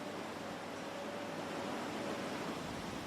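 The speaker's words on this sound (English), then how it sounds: "Days of heavy downpours turned this gentle stream into a raging torrent." Floodwater from heavy downpours surges through what was once a gentle stream, a steady broadband roar of rushing water heard at a distance, constant and unbroken with no voices.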